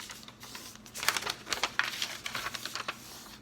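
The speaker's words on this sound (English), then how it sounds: "if you didn't have scissors, would be to bend it back and forth on that fold a few times" Sheet of paper on a placemat-covered table being bent back and forth along a fold, giving a run of soft, close crinkling crackles in quick bursts, fairly quiet and alone.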